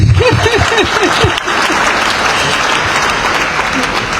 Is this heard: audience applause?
yes